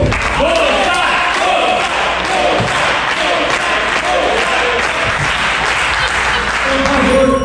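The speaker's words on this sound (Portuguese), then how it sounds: "uma grande salva de palmas ao nosso técnico de som, Felipe Bonsai Marcondes" Loud applause from a concert audience on a drum tour, a sustained roar of clapping and cheering filling the room, with voices and shouts mixed in throughout.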